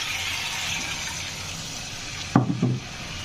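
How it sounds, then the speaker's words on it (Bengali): Water goes into a spice paste sizzling with fried onion for a catla fish and ridge gourd curry: a steady hiss of frying, then a short gushing splash as the liquid hits the hot pan near the end. "মশলাটা কষিয়ে ভালো করে এখন দিয়ে দেব পানি"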